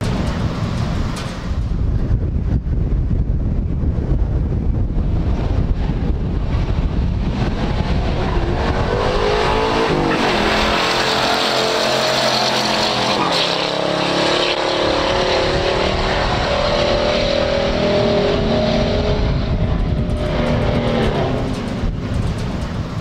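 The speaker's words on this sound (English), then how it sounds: "Checking out this drag race" Two muscle cars drag racing head to head, a 1970 Dodge Challenger R/T 440 against a 1974 Pontiac Firebird Trans Am in a pure stock event, with a loud sustained engine roar and wind buffeting throughout, no talk.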